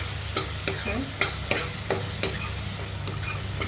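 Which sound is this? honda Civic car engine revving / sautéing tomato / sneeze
sautéing tomato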